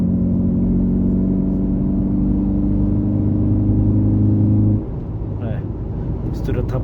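A modified Ford Focus with twin throttle bodies pulls in fourth gear on a street, its engine holding a loud, steady, harmonic drone before dropping off abruptly near the end as someone talks over it.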